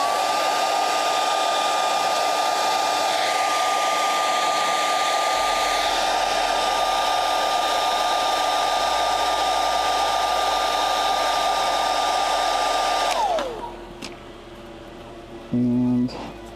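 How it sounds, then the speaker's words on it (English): A hair dryer blows steadily and loudly for about thirteen seconds, then switches off and its whine spins down, leaving quiet room noise and a brief thump. "then we're going to stick the hairdryer in here"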